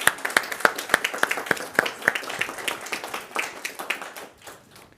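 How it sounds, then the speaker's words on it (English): An audience at an edge computing talk claps, sharp hand claps building into a brief round of applause that thins and fades out over a few seconds, with no speech over it. "Let's do another round of applause for that"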